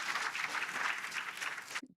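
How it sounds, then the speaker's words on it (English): Brief, even applause from an audience, a soft wash of clapping that cuts off abruptly at the end. "Tepid applause."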